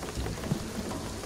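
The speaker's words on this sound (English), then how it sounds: "the rain is gonna flood it" Heavy rain pours in the video game Shadow of the Tomb Raider, a steady close hiss of drops with low rumbling thunder underneath and no talking.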